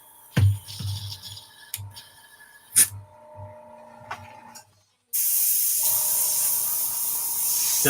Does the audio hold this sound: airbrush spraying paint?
yes